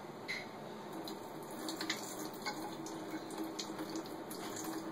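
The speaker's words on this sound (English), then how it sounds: "You go ahead and pour some water for that." Water poured from a tap over tomato seeds being rinsed, a steady soft splashing trickle running alone at low level with small droplet clicks.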